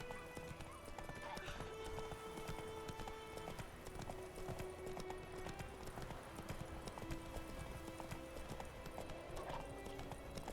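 Geralt's horse Roach in The Witcher 3: Wild Hunt gallops along with steady, quick clip-clop hoofbeats, fairly quiet, with game music tones running underneath and an occasional snort or whinny.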